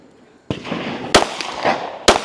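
Loud, sharp gunshots at a women's tactical shooting competition stage, three separate reports spaced irregularly, each followed by a brief ringing tail against quiet outdoor background.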